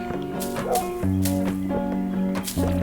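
A small dog in the video game Donut County gives a few short yips and barks over a steady, layered game music bed, fairly loud and close.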